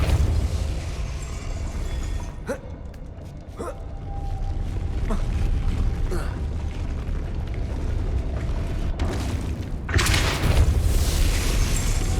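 Depulso force spell cast in Hogwarts Legacy on PS5: a deep booming rumble under continuous game ambience, with a few sharp knocks and a brighter burst of impact near the end.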